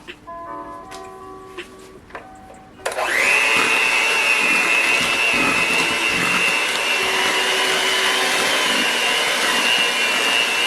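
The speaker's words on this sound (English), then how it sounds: "let me go ahead and give it a little whisk" A small electric whisk mixes a strawberry shortcake foaming sugar scrub, starting abruptly after a few quiet seconds of faint clinks and then whirring loudly and steadily to the end.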